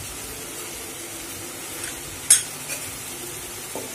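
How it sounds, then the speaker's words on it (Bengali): Egg masala for egg biryani cooks in a pan under a soft, steady sizzle, with a single sharp clink of a utensil against the pan midway and a few faint scrapes of stirring. "এবার আমরা ভালো করে এটাকে কিছুক্ষণ কষাবো"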